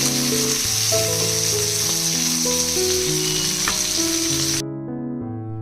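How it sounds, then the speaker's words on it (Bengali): Hot oil sizzles with a constant hiss as fish fry in it, beneath background music, the frying noise cutting off abruptly near the end. "এবার মাছগুলোকে আমি ভালো করে ভেজে নিচ্ছি"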